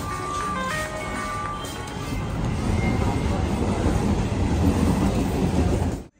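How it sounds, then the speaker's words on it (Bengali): A train pulls into a railway platform on the Howrah-bound line, a loud rumbling rush with clattering wheels building and holding, preceded by faint tonal horn-like notes and a hint of voices. "ডাউনের ট্রেন আসছে, মানে হাওড়া যাওয়ার যে গাড়ি সেই গাড়ি আসছে"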